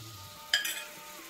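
Soaked rice fries with spices in a pan under a soft, steady hiss, broken midway by a single bright metallic clink of a utensil against the pan.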